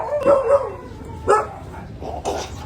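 Dog barks sound at close range, two or three short, sharp bursts with a brief high yip among them, over a steady background hum with no talking.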